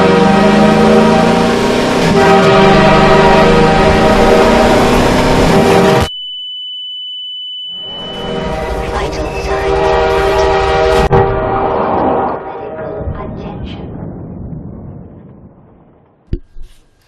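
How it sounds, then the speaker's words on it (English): A train approaches in the Half-Life 2 video game, its horn blaring loudly over rumbling wheels, cutting out abruptly, then returning in a second loud burst before fading away. "Unfortunately, driving head-on into a train is not one of those things. I thought it was headed for me."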